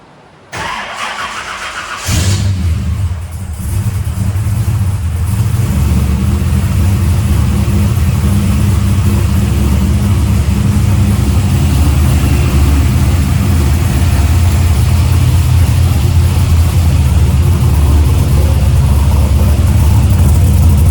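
A new LS engine in a 1971 Camaro cranks briefly, catches after about two seconds, and settles into a loud, steady, close idle with a deep low rumble that holds to the end.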